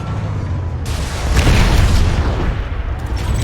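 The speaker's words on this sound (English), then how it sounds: "The guy just took a tank shell and lived." A tank shell explodes on impact against an infantry player in the Planetside 2 battle game, a loud booming blast that swells near 1.3 seconds and rumbles on amid ongoing combat noise.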